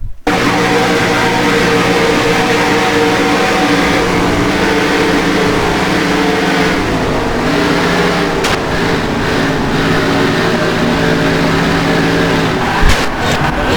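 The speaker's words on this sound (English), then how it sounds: "On board with the Shell Pennzoil Cam. On board Steven Gonzalez's Dodge Charger" A Dodge Charger race car engine roars continuously from an onboard view in a NASCAR racing video game at the Coke Zero 400, loud and sustained at high revs with small shifts in pitch.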